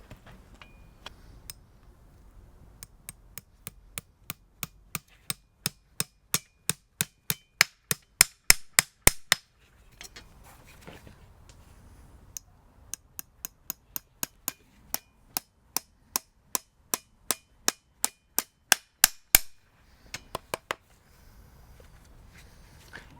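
Farrier hammering nails through a horseshoe into a hoof: two long runs of sharp, evenly spaced metallic hammer blows that speed up and grow louder toward each nail's end, separated by a short pause and soft handling noise.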